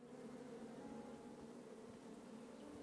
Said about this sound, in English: Shame about that buzzing beehive